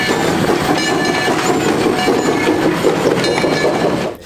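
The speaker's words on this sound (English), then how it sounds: "The throttle puts steam into the cylinders to make the train move." A steam locomotive moving on rails, a loud, close, continuous rolling rumble with rhythmic clatter and metallic squeal that cuts off abruptly at the end, no voices.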